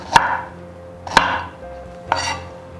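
Three sharp knife strokes slicing ginger on a cutting board, evenly spaced about a second apart, close and clear with no talking.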